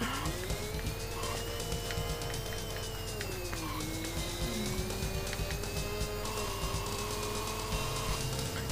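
An arcade car engine revving under turbo in a Sega Super Scaler racing game with a snowy course: a continuous whining motor tone that rises and dips in pitch, layered with synthetic game effects and held at a steady, moderate level.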